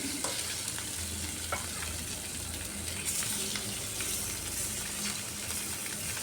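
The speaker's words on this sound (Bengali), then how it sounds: "তেলটা গরম হয়ে যাওয়ার পর লবণ আর হলুদ মেখে রাখা মাছগুলো এক এক করে দিয়ে দিচ্ছি" Turmeric- and salt-rubbed rohu fish pieces fry in hot mustard oil, a loud, dense, continuous sizzle close up with faint crackles throughout and no talking.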